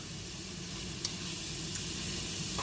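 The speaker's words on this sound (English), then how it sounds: "So I'm just going to let this saute here for about 15 minutes" Two full cartons of mushrooms sauté in a pan for homemade cream of mushroom soup, giving a steady, soft sizzle with faint crackles throughout and no talking.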